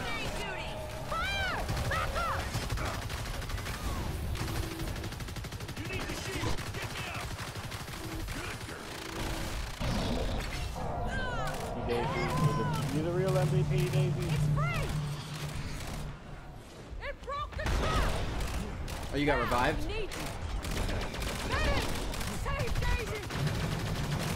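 Rapid bursts of automatic gunfire and explosive impacts in the video game Evolve, dense and continuous throughout, with a player talking over the action.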